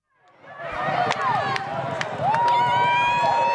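A large, enthusiastic crowd of about 5,000 at the Longford Cup horse race on New Year's Day fills the air with rising babble and cheering, loud and steady, with whistles and shouts cutting through.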